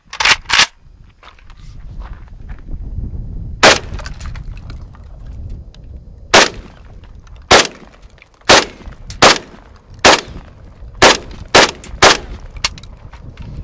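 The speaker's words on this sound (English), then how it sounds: "AK-47 or MAC-90, Chinese version" A Chinese-made AK-47 (MAC-90) rifle shooting at a cinder block outdoors: loud, sharp single gunshots with uneven gaps, two early shots, then a sparse run and a quicker cluster near the end, with no talking.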